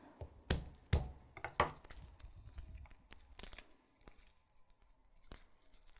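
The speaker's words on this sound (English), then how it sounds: "Cut the end off. And the skin just pops right out." Garlic cloves cut at the end and peeled in a kitchen: a few sharp, close snips or chops followed by soft crinkling and tearing of papery skin, quiet and intermittent.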